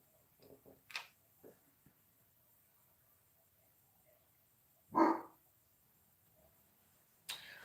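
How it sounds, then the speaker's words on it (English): An annoying dog gives a few faint, scattered barks indoors, with one louder sharp bark near the middle and another toward the end amid long quiet gaps. "Can we talk about an annoying dog?"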